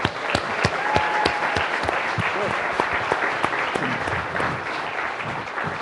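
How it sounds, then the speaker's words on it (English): A theater audience at the Smithsonian gives a sustained round of applause at an evening event honoring Nolan Bushnell, dense clapping filling the room at a steady level with a few voices mixed in. "So I think we should give ourselves a round of applause."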